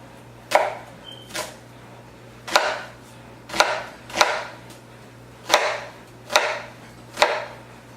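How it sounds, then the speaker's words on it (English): A knife dices an onion on a cutting board in eight sharp, evenly spaced chops, each a crisp knock of the blade against the board, close and alone with no talk. "we're going to dice this thing up."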